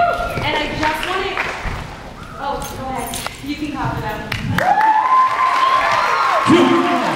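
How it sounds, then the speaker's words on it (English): An audience claps for a group invited on stage to perform a freedom song, with the applause mixed among loud voices, whoops and cheers. "You can clap it up."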